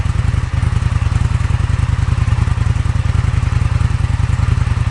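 Indian FTR 1200 motorcycle with an Akrapovic exhaust, cold engine, a loud close-up pulsing throb with a fast even rhythm that holds steady for several seconds and comes through alone.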